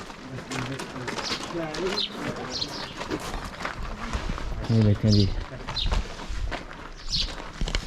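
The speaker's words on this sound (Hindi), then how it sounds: "चिड़ियाँ भी वैसे बोल रही हैं" Birds chirp briefly and intermittently in the ancient village of Ait Ben Haddou in Morocco, faint calls heard beneath someone talking and nearby footsteps.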